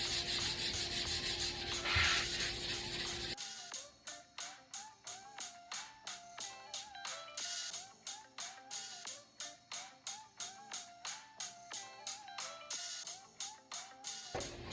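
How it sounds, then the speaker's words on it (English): A wooden stool being scuffed by hand with sandpaper before hydro dipping, steady rhythmic rubbing strokes close up and fairly loud, repeating in quick regular bursts after a brief opening noise. "I'm gonna scuff up all these sides around the stool here"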